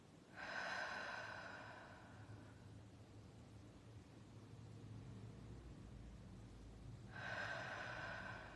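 Deep breathing during a guided morning meditation: a long, breathy inhale near the start and another about six seconds later, close and soft, separated by quiet room hiss, with no talking.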